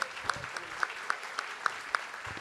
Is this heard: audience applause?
yes